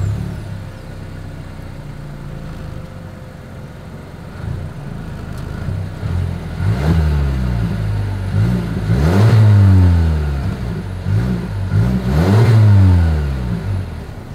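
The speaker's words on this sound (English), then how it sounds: "As always, here is that exhaust clip." A 2023 Mazda CX-9 SUV with a dual exhaust and chrome tips revs several times, with rising and falling engine sweeps over a steady idle. The revs are close and loud, and no one speaks.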